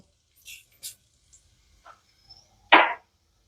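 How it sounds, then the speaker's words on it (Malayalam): Scattered sharp pops and crackles of mustard seeds spluttering in hot oil, a few small ones followed by a louder spluttering burst near the end. "എണ്ണ ചൂടായി വന്നിട്ടുണ്ട് നമുക്ക് കടുക് ഇട്ട് കൊടുക്കാമല്ലോ"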